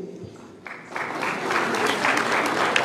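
Applause for honoured secondary-school graduates at an award ceremony: clapping starts softly, then swells into steady, dense applause from a large audience that keeps building to the end.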